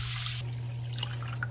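Water poured into a pot of flax seeds for making flaxseed gel, a steady close trickle and splash lasting throughout, with a constant low hum underneath.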